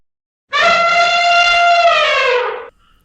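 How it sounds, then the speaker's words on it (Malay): An elephant trumpets once, a loud, brassy, horn-like blast that holds steady for about two seconds before cutting off, with silence around it. "Haiwan tersebut ialah gajah."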